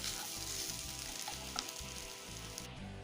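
Spiced potato and soya pieces sizzling in a hot pan while being gently stirred, a soft continuous fry with light scraping strokes, close and quiet.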